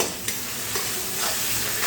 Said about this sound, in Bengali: এবারে তেলের সঙ্গে এই পেঁয়াজগুলো আমি একটু ভালো করে ভেজে নেব